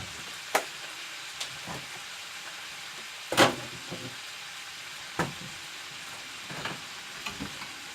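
Small pieces of food frying on a skillet, a quiet low sizzle under a handful of sharp spatula scrapes and taps spaced irregularly, with one louder scrape near the middle, close and without speech.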